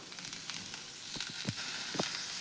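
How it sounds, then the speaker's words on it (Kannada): Shredded cabbage sizzles and fries in oil in a pan for a Kannada-style palya, a steady crackle with a few sharper pops close by and no talking. "ಮೊದ್ಲಿಕ್ಕೆ ಇದನ್ನು ಸ್ವಲ್ಪ ಎಣ್ಣೆ ಹಾಕಿ ಹುರ್ಕೋಬೇಕ್ರಿ"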